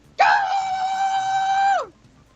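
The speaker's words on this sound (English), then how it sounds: "that was actually pretty close to one of the many, many shriekings that you did" One person lets out a loud, steady shriek lasting about a second and a half, held at a high pitch with a sharp start and a quick fading drop at the end.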